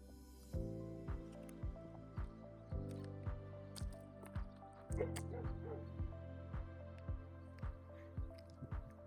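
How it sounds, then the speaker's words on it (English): Several neighbourhood dogs bark from a distance beside a house with a rooftop terrace in Andalusia, Spain, a steady series of sharp barks with occasional yips, moderately loud and roughly evenly spaced, with faint talk underneath. "The neighbors also have dogs."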